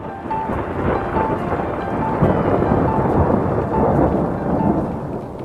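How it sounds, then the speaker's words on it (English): Heavy rain with rolling thunder rumbling steadily throughout, a dense continuous storm wash with no voices, in Kenya. "The sound of thunder warns of trouble ahead."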